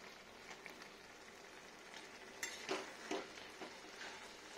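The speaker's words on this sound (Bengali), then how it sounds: "এই যে দেখুন হালকা ফুটছে," A vegetarian bottle gourd and poppy seed curry barely simmering in a pot, faint soft bubbling and low sizzle with a few light spoon scrapes against the pot in the middle, heard alone without voices.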